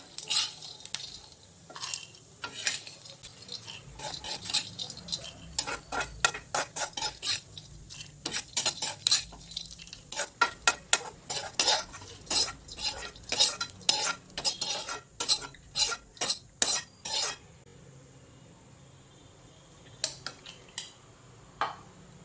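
Roasted nuts being stirred and scraped out of a pan, with dense rapid clattering and metallic scraping of a utensil that turns sparse at the end, close and fairly quiet.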